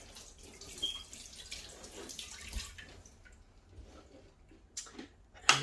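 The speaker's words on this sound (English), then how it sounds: "I'm just going to wash my hands" Hands washed under a running kitchen tap partway through making Greek meatballs, a soft steady water wash with light splashing and a few drips, brief sharper clatters near the end.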